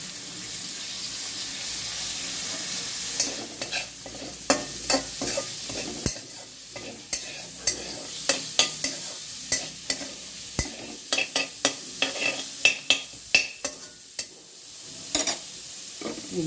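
Garlic and chillies frying in a pan for prawn chowmein, a continuous oily sizzle broken by repeated sharp scrapes and clacks of a spatula stirring against the metal, close and without talk.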